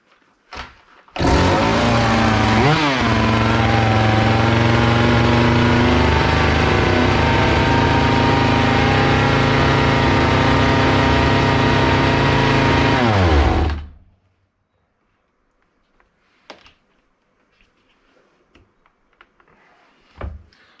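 A Hyundai 450 chainsaw's small two-stroke engine roars steadily at high revs, racing at idle, for about twelve seconds, dips briefly early on, then cuts out abruptly, leaving near silence with faint clicks.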